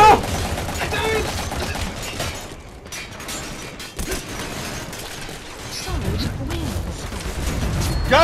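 Gunfire crackles in a Metal Gear Online match, rapid bursts and mechanical clatter mixed with game effects, loud and continuous under excited players talking.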